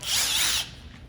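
A cordless drill, used to raise and lower the stabilizer jacks of a 2021 Autumn Ridge 26BHS travel trailer, whirs in a short high-pitched burst for about half a second, then cuts off into quiet background noise.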